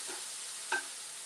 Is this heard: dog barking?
no